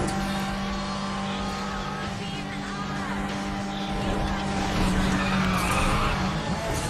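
Porsche driving in a racing video game, a continuous engine drone with tire squeal and skidding, loud and close, with a voice talking faintly over it.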